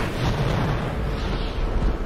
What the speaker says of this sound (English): Blow the fuel reserve.